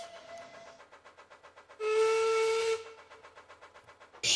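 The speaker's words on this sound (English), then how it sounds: "Oh, shoot, I hear Duncan's whistle." A steam engine whistle sounds in a Roblox Thomas game, one loud sustained blast of about a second, surrounded by a rhythmic chuffing of the locomotive before and after.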